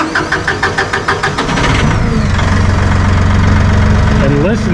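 A Massey Ferguson 1840E hydrostat compact utility tractor, 39.4 engine HP, cranks over with a rapid starter rhythm, then its diesel catches and settles into a steady, fairly quiet close-range idle.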